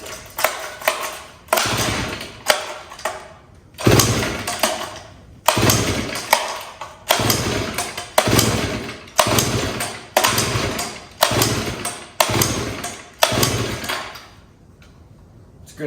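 A warm chainsaw with a Tillotson HL carburetor and needle-and-seat trouble, pulled over unchoked with the throttle held open, giving about a dozen evenly spaced rasping pull-cord bursts that each sputter briefly without catching, close and loud.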